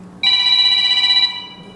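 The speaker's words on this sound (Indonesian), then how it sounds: "Ya, itu lagi telepon WA saya." A WhatsApp call rings on an Android phone as a short, bright electronic ringtone lasting about a second, close and clear, then fading out.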